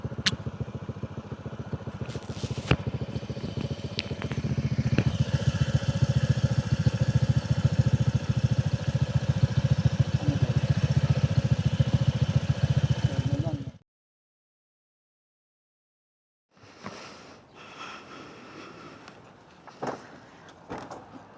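A motorcycle engine runs loudly and steadily, revving up partway through, then cuts out abruptly into silence, followed by scattered clatter and faint handling noises.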